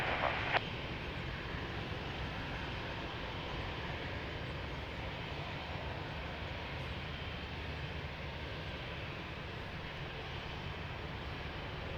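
Jet traffic at Lisbon Airport on runway 02: a steady, distant aircraft engine roar holds evenly throughout, with no voices over it.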